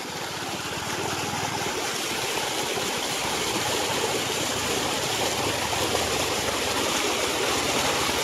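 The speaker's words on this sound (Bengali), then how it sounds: "এই যে জলটা নামছে।" Released water rushes steadily down a stream, a dense, continuous roar with no breaks, close and loud throughout with no talking.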